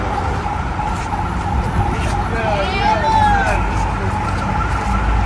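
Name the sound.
police car siren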